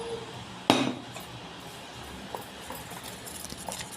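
Egg and cornflour coating batter for chicken cutlets is mixed in a bowl: one sharp utensil clink, then soft scattered taps and scrapes, quiet and close.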